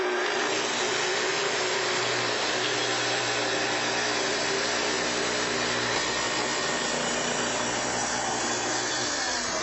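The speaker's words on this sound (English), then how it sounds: "To make your cut, first start the saw, then plunge down to your depth setting, and advance into the workpiece slowly." A Festool TS plunge track saw runs continuously as it advances through a workpiece, a loud, steady, close whining roar that holds unbroken throughout with no talking.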